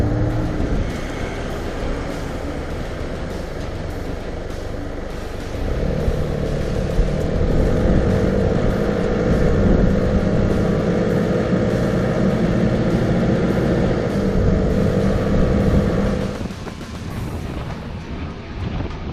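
A 4WD with tyres let down to low pressure rolls over soft, undulating sandy ground, giving a continuous engine rumble mixed with heavy wind buffeting that grows louder midway and eases near the end.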